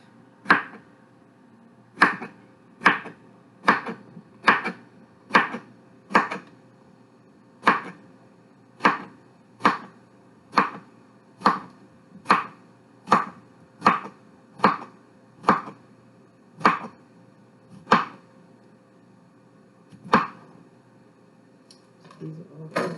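A knife chops cucumber and tomatoes on a cutting board in about twenty crisp, evenly spaced strikes. The knocks are close and distinct, with a short pause before the final two.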